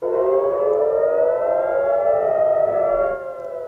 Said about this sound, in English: Sirens blared just moments into 2024 as Hamas launched a barrage of rockets from Gaza into Israel